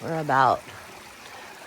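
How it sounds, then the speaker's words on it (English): A stream flows beside the Appalachian Trail near Ty Creek, making a soft, steady rushing hiss that carries on alone after a brief burst of talk. "we have some beautiful water flowing alongside of us"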